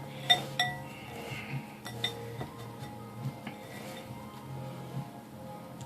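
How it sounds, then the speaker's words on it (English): Onion rings are dipped in panko crumbs and laid out on a baking tray for baked onion rings, giving close, irregular clinks and light knocks of bowls and tray with no talking. "And then we're going to dip them in our panko. Mix them around."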